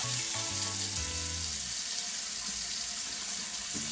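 Juices from two pounds of ground beef drain into a sink, a steady rushing pour close by with running water under it and a low tonal hum at the start, and no talk.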